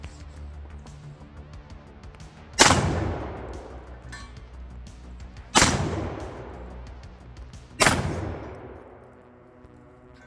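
A Stoeger M3000 shotgun fires slugs at a steel hostage target outdoors, three loud, sharp blasts spaced a few seconds apart, each with a long echoing decay and faint clinks between.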